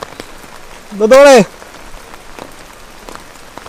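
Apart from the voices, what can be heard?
rain falling outside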